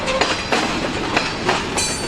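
Freight train cars roll past close by on the Escanaba and Lake Superior Railroad, a loud steady rumble with repeated clickety-clack wheel beats and a few sharper metallic hits.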